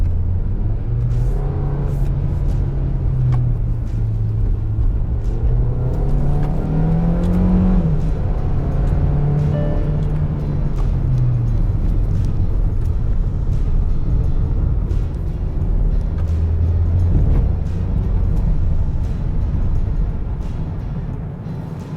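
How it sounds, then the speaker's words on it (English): A 2022 Kia Carens petrol MPV engine revving hard after a couple of paddle-shift downshifts, a loud continuous drone that rises and falls in pitch through the gears, heard from inside the cabin with no talking. "I'm going to drop a couple of gears using the paddle shifts."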